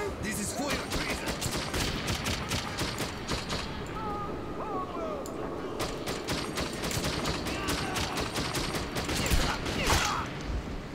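Gunfire in the first-person shooter Metro 2033, rapid bursts of shots rattling almost continuously for several seconds, with a brief lull midway and mechanical clanks in between.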